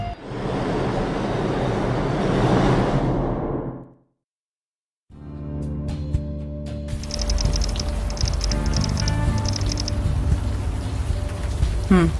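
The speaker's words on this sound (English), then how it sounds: "Still raining." Rain falls in the adventure game Unavowed as a steady, even hiss for several seconds. It cuts to silence, then gives way to a different ambience with sustained tonal hums.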